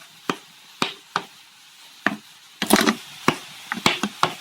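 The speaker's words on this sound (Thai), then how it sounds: "แล้วก็เอาใบสะระแหน่มาหั่นนะครับเตรียมไว้ก่อนนะครับ" A knife chops fresh mint leaves on a cutting board, with sharp, separate taps at irregular intervals and a brief quick flurry midway, close and clear against a quiet room.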